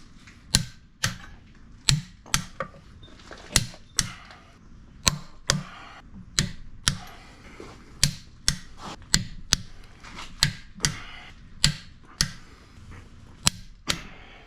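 A torque wrench tightening bolts to 125 foot-pounds gives off a long run of sharp, fairly regular clicks, close and distinct, with brief pauses between some of them.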